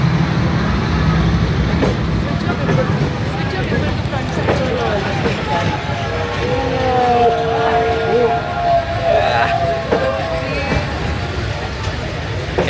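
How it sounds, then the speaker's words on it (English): A train rolls past at very close range along Hanoi's narrow Train Street, producing a steady loud rumble and rattle with a few squealing or horn-like tones. People chatter excitedly underneath. "Can you see the train? It's so close."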